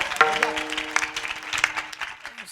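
An audience at a kirtan gathering claps in a short burst of loud, scattered hand claps, with a sustained musical tone underneath that fades as the clapping thins out.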